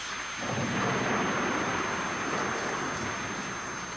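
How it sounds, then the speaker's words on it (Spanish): A thunder and lightning storm: a heavy, continuous roaring rumble that swells in after a brief moment and stays loud throughout, with a rain-like hiss mixed in and no voices. "Relámpagos."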